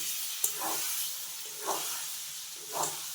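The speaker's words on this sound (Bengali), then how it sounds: "এবার পটলগুলো ভেজে নেব" Pointed gourds frying in hot oil seasoned with salt and turmeric, giving a steady broad sizzle and hiss throughout with a few soft stirring bumps, close and moderately quiet.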